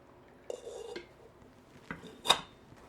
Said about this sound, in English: All right, so now I'm gonna strain this. I'm gonna pour the flavored milk back in.